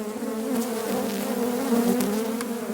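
Agitated honey bees swarm around an opened hive in late winter, a loud, dense buzzing drone with wavering pitch, close to the ear and constant throughout, no voices.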